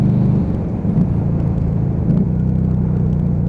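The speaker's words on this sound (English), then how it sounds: "So just rev matching down again." Lexmoto Vendetta five-speed motorcycle engine rev-matching on a downshift: a close, loud, low rumbling drone with pulsing tones that dip and swell briefly around each blip, under wind noise.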